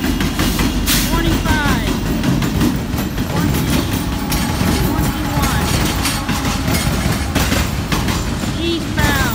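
An eastbound freight train, a Husker Refrigerated load, pounds steadily over rail joints in Greenfield, Massachusetts, with a continuous loud rumble and repeated clickety-clack from the wheels passing close by.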